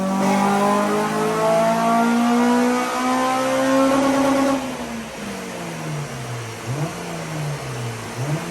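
A tuned Honda Civic EP3 Type R with a K20 engine revs on a dyno, holding a loud rising drone that climbs steadily, then drops off and settles into lower, wavering revs near the end.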